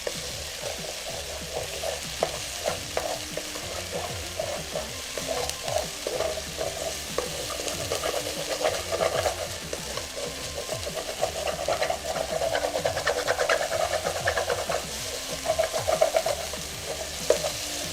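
A spatula stirs and scrapes through vegan kimchi fried rice in a frying pan, and ingredients are scrambled with repeated rhythmic scraping strokes over a soft, continuous sizzle.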